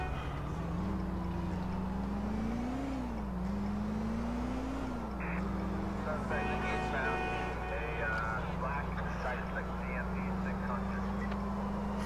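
A car driven through the streets in Grand Theft Auto IV, its engine a continuous close hum whose revs rise and fall in waves over steady road noise, with voices faintly mixed in.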